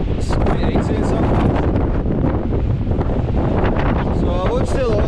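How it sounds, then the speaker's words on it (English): Strong wind roars over a Tatras mountain summit, buffeting the microphone in constant loud gusts with rough, rumbling bursts throughout and no clear pauses. "it's like so windy right now"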